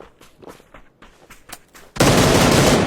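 Gunfire in a ranked competitive shooter match, rapid scattered shots for about two seconds, then a sudden loud, dense burst of continuous automatic fire that fills the rest of the moment.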